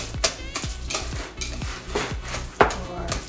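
Bananas being mashed for banana bread, with soft squishing and scraping of a utensil against a bowl, several irregular strokes close by and at moderate level, with no talking.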